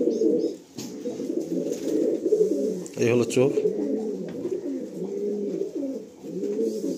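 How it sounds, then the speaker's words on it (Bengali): Pigeons at home coo steadily in a low, throaty, rolling murmur that carries on throughout, close by, while someone talks over them. "পায়রা অনেক দূর দূর যায়"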